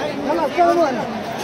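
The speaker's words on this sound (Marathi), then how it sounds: "तर मित्रांनो गर्दी बघा तुम्ही" A crowd of devotees at the Pandharpur temple during Putrada Ekadashi: a dense babble of many voices close by, with one voice rising over the crowd noise.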